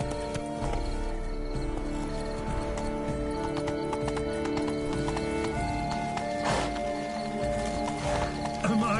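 A horse gallops in a video game with fast, steady hoofbeats that run the whole time, alongside a whinny, game music and background effects.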